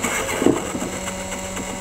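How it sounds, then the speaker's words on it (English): Ray Newman's model walking beam engine at the Whitstable Community Museum runs with a steady low mechanical hum and a soft thump, close and fairly quiet. "So this walking beam engine, made by Ray Newman at the Whitstable Community Museum,"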